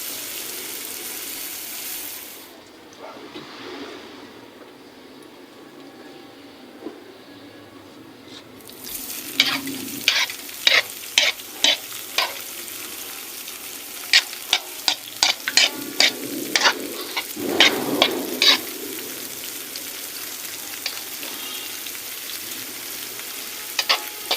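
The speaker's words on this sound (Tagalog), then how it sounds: "Ayan, kumulo na guys." Spaghetti sauce bubbles at a boil in a pan while a spoon stirs it, with sizzling and a run of sharp clinks and scrapes against the pan, near and steady.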